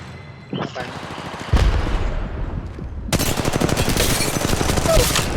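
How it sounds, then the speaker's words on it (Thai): Gunfire in the Apex Legends Mobile video game: a heavy shot, then sustained rapid automatic bursts, loud and close, dense rattling throughout. "ยิงกันอยู่ตรงหน้า"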